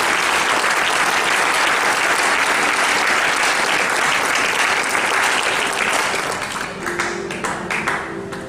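Church congregation applauding loudly, a dense sustained roar of clapping from many hands that thins and fades toward the end, with a few voices audible underneath.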